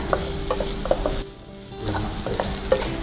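Ginger garlic paste sautés in a pan with steady sizzling and sharp scraping stirs, then a short quieter gap before the frying and stirring pick up again, close and alone.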